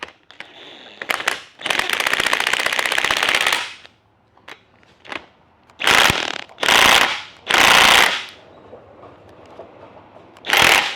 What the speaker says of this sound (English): if you guys listen closely, you would have heard that torque wrench click